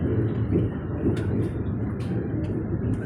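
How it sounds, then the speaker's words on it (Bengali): A train rolls through hilly tunnel country on the Haflong line, giving a loud, steady rumble with faint metallic rattles and squeals above it. No voices are heard. "ওই যে ট্রেন টার্ন করে"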